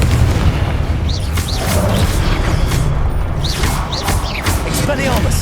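Confringo spell blasts in Hogwarts Legacy, several booming impacts with crackling bursts and whooshing magic effects amid continuous combat noise, overlaid by game voices.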